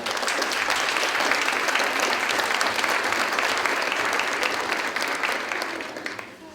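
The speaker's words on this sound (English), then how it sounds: "I think we should have a tremendous applause for everyone" Sustained applause from a large audience at a fashion show on Okanagan Nation territory, dense and even clapping for several seconds before tapering off.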